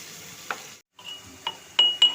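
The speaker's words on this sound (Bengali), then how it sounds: "আমি পেঁয়াজটা ভেজে নেব" Onion paste fries quietly in a pan, a faint low sizzle broken by a few sharp utensil clinks and scrapes, with a brief silent gap.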